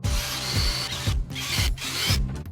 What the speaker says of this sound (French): je peux marquer tous les trous pour tous les points de montage sur le côté supérieur et sur le côté inférieur et les percer